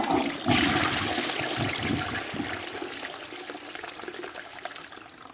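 A toilet flushes close by with a loud rushing gush of water that fades into a trickling, draining stream and refilling sounds, with no one speaking.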